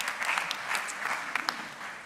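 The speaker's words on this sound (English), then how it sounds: "you're getting a round of applause" Audience at a sustainable tourism conference in Split applauding, a steady, fairly close wash of clapping that carries on throughout with a few sharper individual claps.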